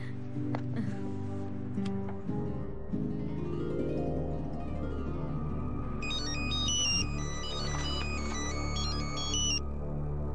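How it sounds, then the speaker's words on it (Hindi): A phone ringtone plays a repeating electronic melody, rising tone sequences that grow brighter and busier toward the end, with no one speaking. "फोन उठाओ बुराक, प्लीज।"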